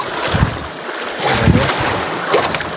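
Ocean waves and gusting wind surround a small fishing boat at night as a storm rolls in, a steady rushing noise with rhythmic surges of water close by.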